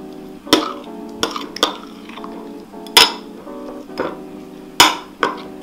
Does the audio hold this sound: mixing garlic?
yes